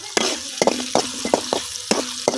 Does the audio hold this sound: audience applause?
no